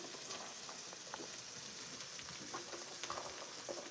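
Shiitake mushrooms sautéing in leftover oil in a pan, a soft continuous crackling sizzle with occasional light pops and stirring scrapes, close and fairly quiet with no voices.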